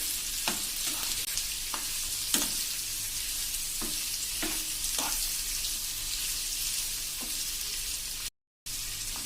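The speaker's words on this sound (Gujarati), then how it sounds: "અને એને પણ આપણે આવી રીતે સેજ એવા લાઈટ પિંક થાય એવા સાંતળી લેશું" Onions sautéing in a pan for Gujarati onion chutney give a steady, close frying sizzle with occasional stirring scrapes, heard alone without talk; a brief dropout of silence comes near the end.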